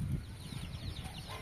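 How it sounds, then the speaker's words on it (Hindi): A hen clucks softly among her ten chicks, short low murmuring calls repeating close by with faint chick peeps above, no talk. "और ये देखिए हमारी मुर्गी अपने 10 बच्चों के साथ"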